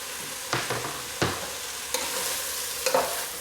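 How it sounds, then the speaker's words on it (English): Browned meat sizzling in a pan while about a tablespoon of olive oil is stirred through it: a soft, steady frying hiss with a few distinct scraping strokes of the utensil, close and with no voices. "Now I just added about a tablespoon of olive oil to it. I'm going to stir it in."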